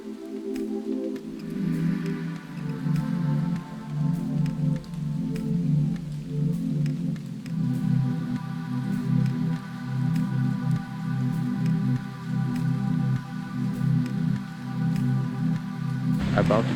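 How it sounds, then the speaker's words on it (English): Rain falls steadily outside a hotel in Sonya's Garden, a continuous soft hiss of drops on surfaces that runs the whole time, with people talking over it. "Too bad it's raining, but it doesn't make it any less beautiful though."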